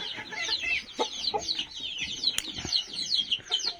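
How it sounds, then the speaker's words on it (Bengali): Chickens on a poultry farm cluck and chatter close by in quick repeated bursts, with a brief flutter or knock partway through. "তিনটা মুরগি এবং দুইটা মুরগ আছে এই যে দেখেন এরাও ডিম দিতেছে"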